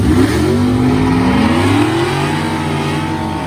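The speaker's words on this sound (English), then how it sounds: "Number 2 in the sportsman class with that old yellow love pickup that just went down track." An LSA supercharged GMC pickup truck roars down a drag strip at a race, its engine loud and close, with pitch sweeping upward through gear changes before it fades slightly.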